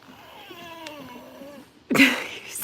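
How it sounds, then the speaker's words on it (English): A cat hisses in a sudden loud, breathy burst near the end, after a stretch of quieter tonal vocal sounds. "Did you just hiss at me?"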